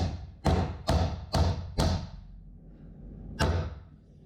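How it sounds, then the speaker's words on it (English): A hammer drives nails into wood while a castellated beehive super is being built. Five sharp, close knocks come in quick, even succession, then a pause and one final blow, with no talk. "Just bang the nail straight and carry on."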